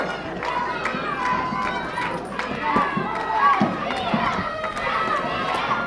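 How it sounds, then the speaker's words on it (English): Crowd at an indoor PPW wrestling show chanting SPF, rhythmic claps and stomps cutting through a steady roar. "The crowd is chanting SPF."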